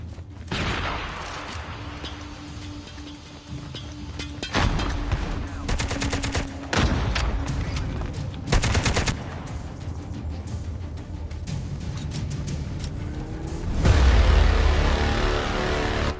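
Gunfire in the Call of Duty Mobile battle royale game: bursts of automatic weapon fire and single shots crack over a steady game ambience, with a heavy boom near the end.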